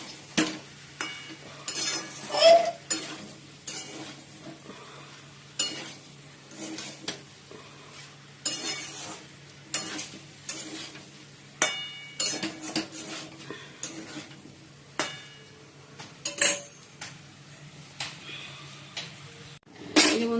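Soybean and potato curry being stirred in a pan, with repeated close metallic scrapes and clinks of the utensil against the pan over a faint sizzle, in uneven bursts throughout.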